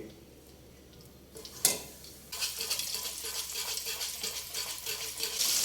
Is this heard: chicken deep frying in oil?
yes